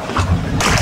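A coral trout rinsed over the side of a fishing boat at sea sends up a brief close slosh and splash of water, with low wet churning that brightens into a spray in the second half.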